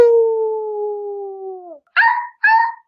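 A human voice imitates dogs howling in a radio play performance: one long, sustained, slightly falling howl, then a pause and two short, bright yelps, close and clear.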